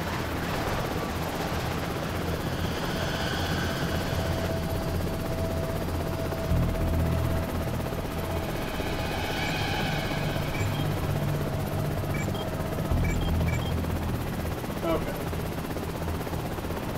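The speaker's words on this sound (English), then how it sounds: "I can get in the helicopter." Helicopter in the video game Prototype, a steady rotor drone and whine running throughout with game effects layered on top, while a player talks over it.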